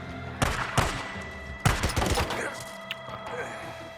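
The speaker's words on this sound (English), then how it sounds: "you can just go good old-fashioned gunfight" Gunfight in the video game Days Gone, with a few sharp shot bursts: one pair early, then a louder cluster of rapid shots with trailing echoes. Faint in-game chatter runs underneath.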